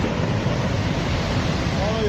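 Surging floodwater of a river in northern Pakistan, roaring steadily and loud throughout like broad rushing surf, with a faint voice or tonal sound emerging near the end.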